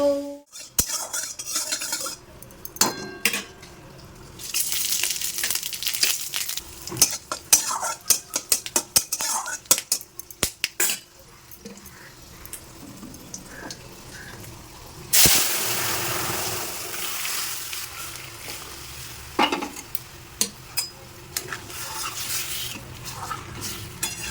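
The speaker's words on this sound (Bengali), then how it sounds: "এখানে এঁচোড়টা একদম কষানো হয়ে গেছে" Young jackfruit is stirred and fried in a pan, with a soft sizzle under frequent sharp clinks and scrapes of a utensil against the metal, including a louder hissing stretch partway through.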